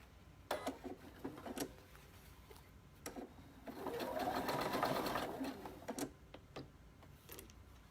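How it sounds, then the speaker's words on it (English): A sewing machine top-stitching the edge of a denim jeans hem with stretch trim, running in short close bursts of rapid mechanical stitching, with a longer continuous run in the middle and brief pauses between. "we will top stitch this edge right here"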